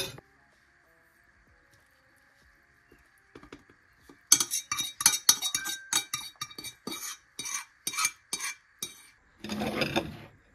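A metal fork clinks and scrapes against dishes while eating Maggi noodles in the hills at Gabala, Azerbaijan: quiet at first, then a busy run of sharp, close taps and clatters.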